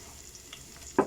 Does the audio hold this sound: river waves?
no